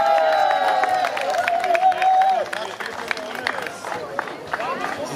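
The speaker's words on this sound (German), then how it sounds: "Nochmal Applaus für den Philipp." A crowd claps continuously in a dense patter of applause, with voices and a brief tone mixed in over the noise, at an outdoor wine fair in Zell-Kaimt on the Moselle, Germany, as the fair tree is raised.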